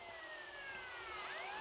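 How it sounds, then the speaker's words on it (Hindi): A police car siren wails in the video game GTA Vice City, its rising and falling tones sweeping fairly loud and alone for a brief moment. "एक पुलिस की गाड़ी आगे रुक गई मेरे मुझे रोकने के लिए"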